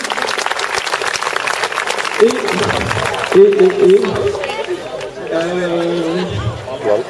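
A crowd at a French national agility team presentation breaks into loud applause, and it carries on under chatter as voices talk over the clapping for the rest of the stretch.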